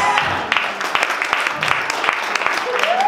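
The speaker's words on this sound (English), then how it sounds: "Give a round of applause to yourselves" An audience applauds, scattered claps building into a steady patter, with some voices mixed in.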